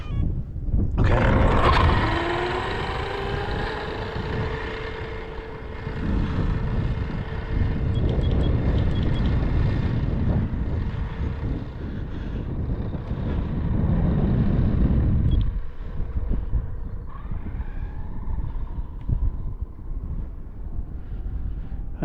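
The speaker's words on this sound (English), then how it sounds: "Turn it on, Jamie. Let that wind up." Speedrun RC car with a single motor and ONYX lipo batteries winding up, a loud rising whine that sweeps upward in pitch and holds, with wind buffeting and rumble underneath and a second shorter whine later on.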